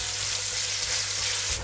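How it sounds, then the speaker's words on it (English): Onions fry in a pan, giving a steady, close, crackling sizzle that keeps going with no pause and no voices over it. "we're going to fry the onions for approximately 8 minutes, 8 to 10 minutes, until they're nicely golden brown in colour"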